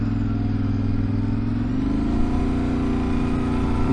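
A 2023 Yamaha Ténéré 700 motorcycle pulls away in second gear. The engine thrums loudly nearby and its pitch climbs steadily as it gains revs partway through.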